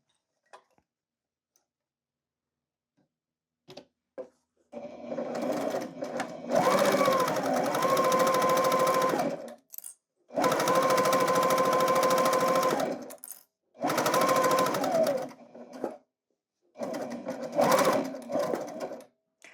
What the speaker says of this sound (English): I'm going to go ahead and sew right off the fabric.